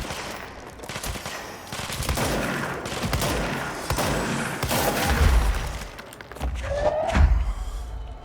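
Rapid gunfire in the video game Control rattles in sustained bursts with heavy thumps and booms, dense and loud, easing briefly before a final flurry.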